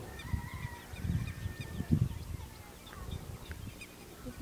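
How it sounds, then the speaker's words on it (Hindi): Distant birds call in a quiet hill village in Raigad, Maharashtra, with faint, scattered honking, fowl-like cries over soft low rumbles and background ambience. "पक्षियों की, पंछियों की आवाज़ आ रही है"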